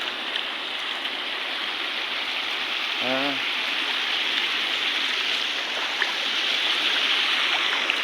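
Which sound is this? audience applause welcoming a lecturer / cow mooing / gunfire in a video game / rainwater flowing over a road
rainwater flowing over a road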